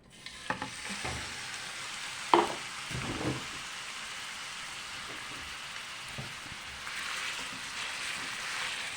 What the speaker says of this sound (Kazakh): фаршымызды жақсылап қуырамыз.